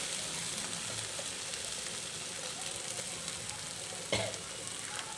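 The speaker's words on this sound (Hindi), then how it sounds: "ये देखिए हरा मसाला हमारा फ्राई हो गया इसमें गाजर डालेंगे" Green masala fries on high flame in a pan for a chicken tikka samosa filling, a steady, close sizzle with faint stirring, then a brief louder burst as carrots drop in near the end.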